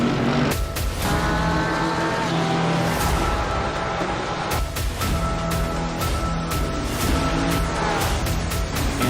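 GT3 race cars in a racing game roar together at the start of a race at Donington Park, a dense, continuous wall of engine noise with revving harmonics and passing bursts, loud throughout.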